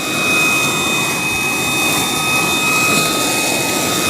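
A Fanttik Fold V10 Apex cordless car vacuum runs on its high setting, a loud, steady whooshing roar with a thin high-pitched whine held throughout, close to the listener.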